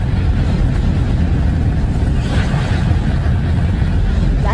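A space sound recording of Neptune's moon Triton plays as a loud, steady, dense rumbling roar with no breaks, like rushing wind or an engine, sustained at one level throughout.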